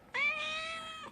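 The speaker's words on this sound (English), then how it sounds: "Sorry about the cat, guys." A house cat lets out a single loud, drawn-out meow, close and clear, in a quiet room.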